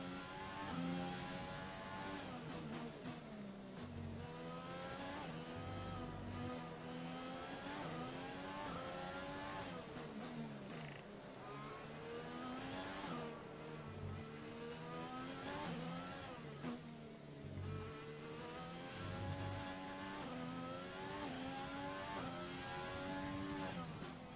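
An F1 race car engine in the video game F1 2020, lapping the Singapore circuit, revs hard and shifts up and down through the gears, its pitch rising and falling repeatedly with no talk.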